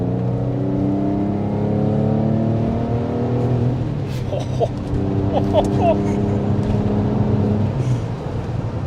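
A Porsche 911 Carrera 996 drives along an open road, its engine droning steadily with rising and falling harmonics as it shifts through gears, heard from inside the cabin while occupants talk over it.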